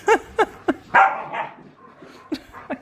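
Dogs, including a golden retriever, let out a quick string of short barks followed by a longer whiny yelp and a few more barks, close and alone.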